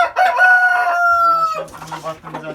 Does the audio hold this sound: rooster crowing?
yes